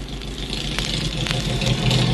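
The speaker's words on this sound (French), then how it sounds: "Une voiture arrive." A car arriving along a road, its engine running at a steady mid-range idle with a faint rhythmic knock, fairly close and sustained for a couple of seconds.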